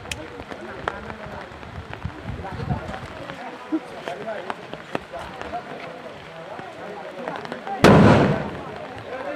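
Diwali firecrackers pop faintly and intermittently on a rainy night, then one closer bang bursts loudly near the end, while people chatter throughout.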